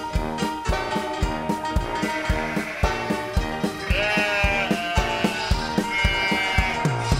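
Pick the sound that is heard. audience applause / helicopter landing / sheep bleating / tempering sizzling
sheep bleating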